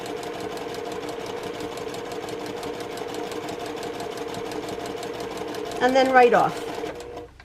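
A sewing machine runs steadily, stitching a quilt block seam a quarter inch from a marked line, its fast even whir holding throughout before a brief voice near the end and a stop.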